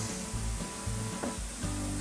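Onions frying alongside a steak in a pan sizzle steadily close up, with a constant crackling hiss and low periodic thumps from stirring or pan movement.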